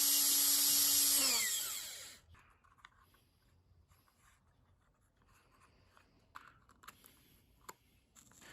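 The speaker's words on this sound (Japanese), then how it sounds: "ナンバー9のワイヤーより少し大きめの穴を開けます。" A power drill bores a hole slightly larger than number 9 wire for a latch on a wooden sheath for a camping hand axe, loud and steady for about two seconds before winding down, followed by quiet handling clicks.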